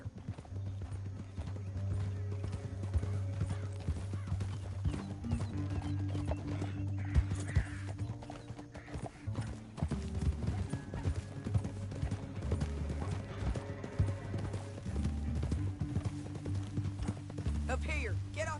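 Horse hooves clip-clop steadily through the whole stretch in the Western video game Red Dead Redemption 2, with a horse whinnying at one point. Game music and voices play over the hoofbeats.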